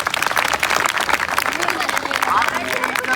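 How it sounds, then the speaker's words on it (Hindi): Audience applause at a gathering, a loud, dense wash of clapping that holds steady throughout, with voices mixed in. "जोरदार तालियां तो बजाओ इनके लिए"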